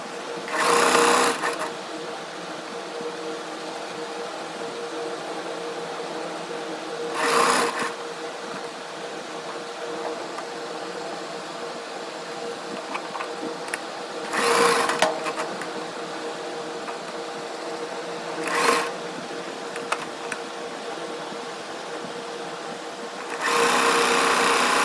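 Close by, a sewing machine stitches pleats on a nighty in about five short, loud whirring bursts, separated by quieter pauses with light handling noises in between.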